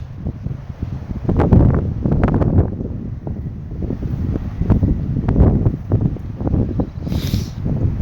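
Gusty morning wind outdoors buffets the microphone in rough, uneven bursts that swell and fade, with a faint rustle beneath and no voices.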